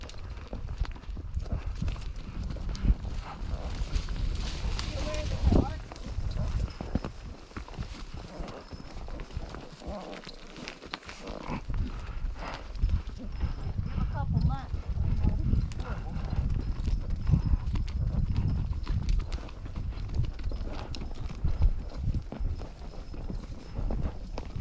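Horse hooves clip-clop steadily along a trail at Fort Stanton, on the Buffalo Soldier and Elk Meadow trails, a continuous walking rhythm with voices talking over it.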